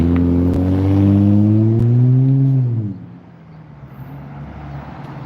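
A car with a loud exhaust revs past on the street, a close, loud droning roar with a rising then falling engine note before it fades into lighter traffic noise.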